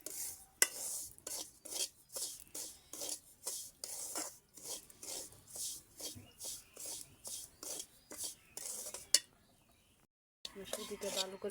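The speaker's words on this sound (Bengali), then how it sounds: "ঘি দিয়ে তৈরি করলে ভাজলে সেন্টটা ভালো আসে, মিষ্টিটাও খেতে খুব মজা হয়। ভালো করে ভেজে নিচ্ছি।" Semolina being fried in ghee in a pan for kalojam sweets, with a spoon rasping and scraping steadily across the pan in quick repeated strokes, close and fairly quiet, then a brief pause.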